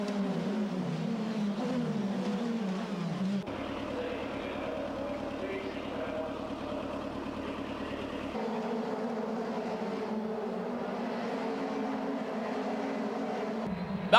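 Formula Renault race cars at the start of a race at Nogaro pass as a pack, with rising and falling engine whines and a sustained drone. Commentary is heard over the engines.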